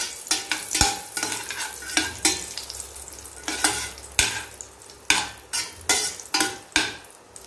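Chopped cashews and raisins roast in a pan, a gentle sizzle under regular scraping stirs that repeat roughly every half second, close and fairly loud.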